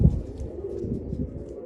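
Pigeons coo softly in low, throaty murmurs close by in a cage, a brief burst of gentle cooing with no talking.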